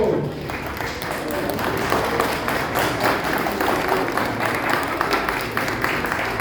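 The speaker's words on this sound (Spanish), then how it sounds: "Vamos a recibirlo con un fuerte aplauso, por favor. Un aplauso." A crowd at a presidential pre-candidate's campaign presentation in Manizales breaks into loud, sustained applause, dense clapping filling the hall for over six seconds while someone talks faintly underneath.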